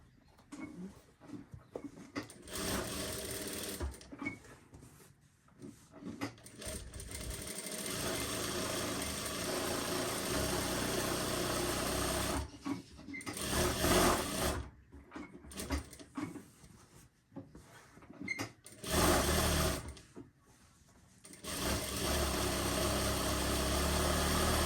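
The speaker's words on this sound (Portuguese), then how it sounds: "Vamos fazer as costuras em cima do risco que foi feito." A sewing machine, likely an overlock, runs stitching seams along marked lines on a beginner's handbag. Long steady motor whirring comes in loud bursts, with brief pauses between runs, close up.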